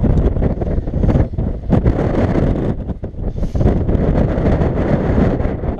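Strong wind buffets the microphone in heavy rumbling gusts, loud and close, with brief lulls between blasts.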